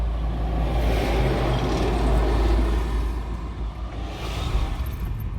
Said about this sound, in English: look at the size of that truck